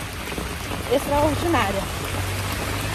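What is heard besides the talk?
rain falling outdoors on a street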